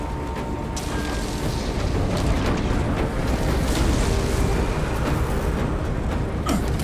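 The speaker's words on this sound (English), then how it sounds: "Caution! Incendiary weapon!" Incendiary weapon blast in Warhammer 40,000: Space Marine 2, a dense roaring, crackling rush of fire that swells and holds loud for several seconds, with sharp crackles flaring on top.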